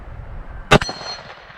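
A bullet strikes a steel gong target at an outdoor shooting range with a sharp metallic clang, followed by a short ringing decay, heard once and fairly close against a quiet background.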